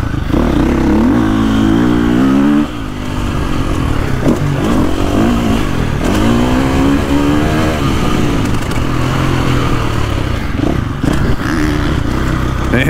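A 2024.5 KTM 450 Factory Edition dirt bike engine revs and builds power loudly and steadily throughout, with rising and falling throttle pitch as it rides through corners and ruts, close to the rider.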